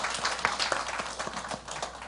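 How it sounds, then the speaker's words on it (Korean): A church congregation applauding to welcome visiting missionaries during a Sunday service, a steady patter of many hands clapping, moderately loud. "우리 박수로 환영하겠습니다."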